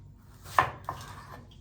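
Two sharp knife chops on a cutting board, close and fairly crisp, separated by a short pause against a quiet background.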